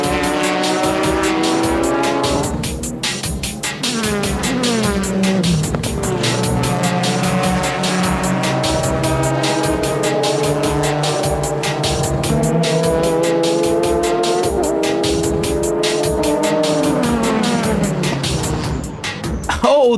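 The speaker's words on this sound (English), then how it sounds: "The Motul Z spins out of control on the corner as it contacts a Denso Supra." Toyota Supra and Nissan Z race cars racing in JGTC, several high-revving engines wailing continuously up and down through gear changes at close range, with tire squeal and cars passing.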